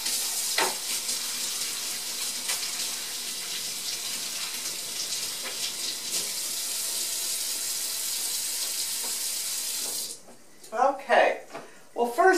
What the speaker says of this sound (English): So let me wash my hands and we'll get started.